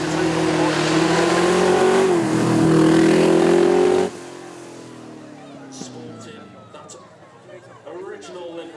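A Ford GT40 race car's engine revs hard at a Beaulieu supercar event, a loud, sustained roar that climbs in pitch for about four seconds. It then cuts to quieter idling and background noise with a few sharp clicks.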